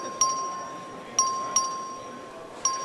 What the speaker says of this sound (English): The clerk ring the bell.